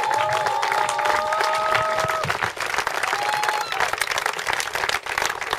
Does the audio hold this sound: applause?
yes